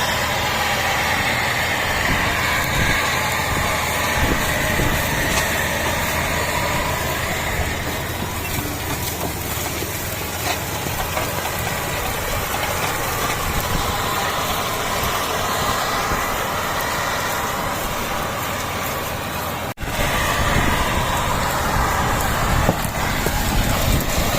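Tractor engine running steadily during sowing of cover-crop soybeans in a field, a continuous low drone with mechanical rattle and broadband noise, loud and close throughout with a brief jolt near the end, no talking.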